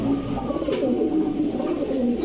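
Cumin-necked high-flyer pigeons at a pigeon farm give a steady, continuous chorus of low, throaty cooing that overlaps throughout, with several birds calling close by.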